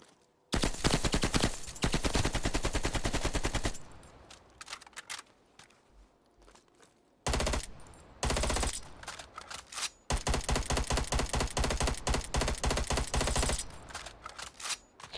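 Bursts of rapid automatic fire from the Pharaoh weapon in Call of Duty: Black Ops Cold War, loud and close, with long sustained strings broken by short pauses and scattered single shots.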